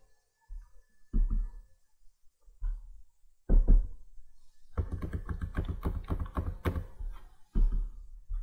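Keys are tapped on a keyboard while entering a password during setup of a Huawei router, starting with a few sparse taps and then running into a rapid, close burst of clicking.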